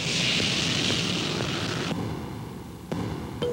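Jet airliner engines roaring steadily with a broad hiss, then dropping to a lower, steadier rumble partway through, heard alone with no talk.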